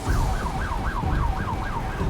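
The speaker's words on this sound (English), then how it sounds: "You hear the emergency sirens going" Emergency sirens wail during the Fort McMurray wildfire, a steady rising-and-falling electronic tone cycling rapidly and continuously over a low rumble of traffic, loud and fairly close with no speech.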